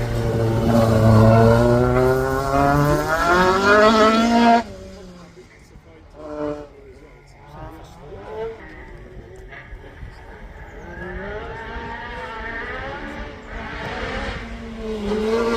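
A little Peugeot race car with a new rear-end setup climbs the Craigantlet hillclimb course. Its engine revs loud and close, rising through several gear changes, then drops away and fades into the distance while voices talk.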